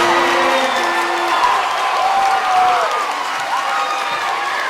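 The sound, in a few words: basketball crowd erupting after a deep three-pointer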